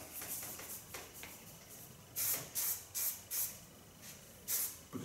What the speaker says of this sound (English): Put a soft protection spray on it.